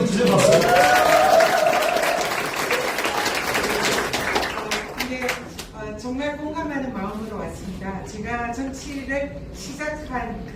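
An audience at a Seoul city council committee launch ceremony claps in a loud burst of applause that fades after several seconds, with a voice speaking over it and continuing alone afterward.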